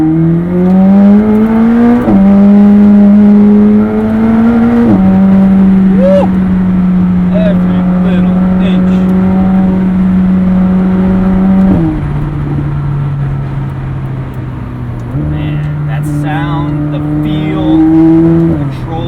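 A McLaren 765LT sports car engine drones and revs, pitch stepping up and down with gear changes, loud and close, steady throughout with no talking.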